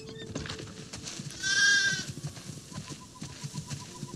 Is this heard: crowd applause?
no